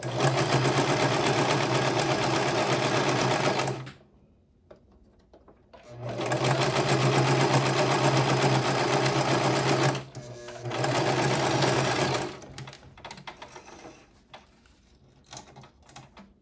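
A sewing machine stitches a bias binding finish on fabric in three long, loud, steady runs of rapid needle clatter, separated by brief pauses, then a few shorter stop-start bursts at the end.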